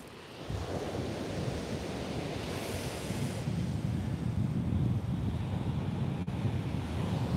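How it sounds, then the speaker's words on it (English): Ocean surf washes onto a shore on a windy day at a fishing spot, a steady low rumbling roar with rolling swells, moderately loud, no talking. "Hopefully you can hear the sound of the waves."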